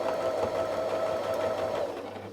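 Domestic sewing machine doing free-motion ruler quilting on a dahlia design, a steady fast whir with a faint tone throughout that eases off near the end, no talking.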